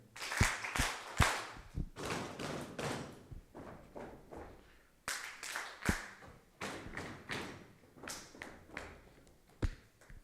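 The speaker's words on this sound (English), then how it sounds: "3 claps on the table, and using your legs, 3 claps on the ground" A group at a summit session claps in sets of three, first slapping tabletops and then striking the ground, producing sharp, loud, roughly rhythmic thumps and claps in clusters with brief pauses between.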